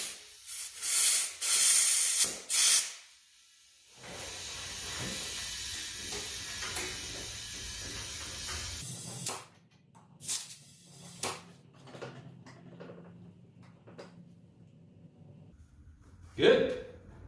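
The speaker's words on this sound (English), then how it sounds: "Now we just fill it with air. Just add air. If I have some in my compressor." Air compressor filling a flat tire: loud bursts of hissing air in the first few seconds, then a steady low hum with short sharp hisses and clicks, ending with another brief burst of air.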